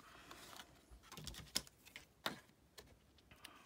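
Scissors snip through a small paper tag in a few quiet, crisp clicks and crunches, close by, with soft handling rustle and no talk.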